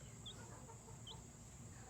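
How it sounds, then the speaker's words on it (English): A newly hatched baby chicken gives two faint, brief high chirps, spaced apart over a quiet background hiss. "I found this baby chicken today."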